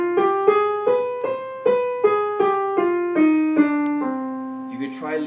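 A piano plays a descending C harmonic minor scale with the sixth lowered, one clear note at a time in a steady rhythm, each tone ringing briefly before the next.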